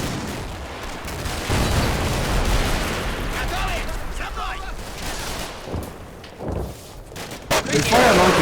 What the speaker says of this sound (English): They fire an RPG and the RPG misses